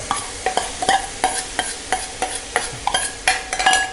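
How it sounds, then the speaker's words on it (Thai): Beef sizzles and crackles in a pan over medium heat, with regular scraping and stirring strokes about every third of a second, close up with no voices. "หลังจากนั้นเราก็เอาเนื้อลงไปในกระทะได้ เลยนะครับ"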